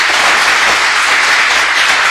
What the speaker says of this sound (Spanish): Pueden aplaudirle al Señor